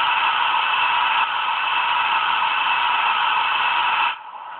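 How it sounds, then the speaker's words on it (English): A model steam locomotive, a Britannia with Digitrax sound, blowing off steam: a loud, steady hiss rushes on without pause, then drops abruptly to a quieter hiss near the end. "function 6 is blowing off."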